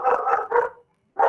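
A dog lets out three quick, close barks in a row, falls silent for a moment, then barks once more, loud and sharp against a quiet room.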